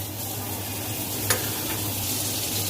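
Butter sizzles as it melts in a kadai on the stove, giving a steady, soft hiss with one brief clink partway through.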